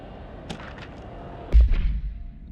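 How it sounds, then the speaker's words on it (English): A single heavy blast goes off at the Blackrock Prism in the video game Control, a deep booming thump with a short rumbling tail, preceded by a couple of quieter impacts against a steady background hum. "Activate the explosion to excavate the Blackrock Prism."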